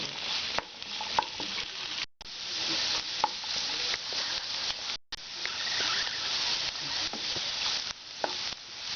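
Green chillies sauté in a pan for Kerala-style vegetable fried rice, a steady hissing sizzle with frequent stirring scrapes and taps, close up, no voices, with two brief cuts in the sound.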